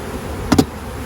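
Russian honey bees near hive frames during a July honey harvest give a brief, close double burst of buzzing against a low steady background hum.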